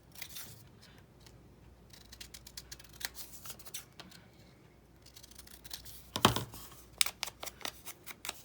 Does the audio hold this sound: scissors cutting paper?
yes